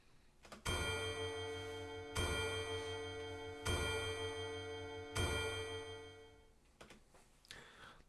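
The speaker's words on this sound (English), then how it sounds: "The chiming of the clock rings out loudly." In the video game NIKKE, a clock chimes four times, each strike a bright, ringing metallic tone evenly spaced about one and a half seconds apart and left to decay, followed by faint clinks as it dies away.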